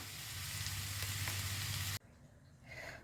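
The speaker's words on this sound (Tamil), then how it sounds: "இப்போ நம்ம குழம்பு முள்ளங்கி சாம்பாருக்கு, குக்கர் சாம்பாருக்கு தாளித்து கொட்டிக்கலாம்" Hot oil tempering sizzles loudly as it is poured into radish sambar made in a pressure cooker, a steady frying hiss that cuts off abruptly, followed by a softer, lower sizzle.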